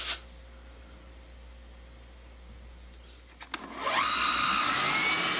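Oscillating spindle sander in a guitar-making shop, quiet at first, then a click and the motor spinning up into a steady high whirring drone that holds to the end.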